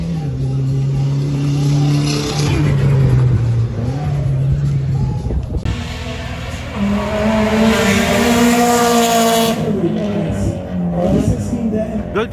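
Race cars roaring past on a race track in a multi-lap event, loud engine whine rising and falling as they speed by, with crowd and background voices mixed in.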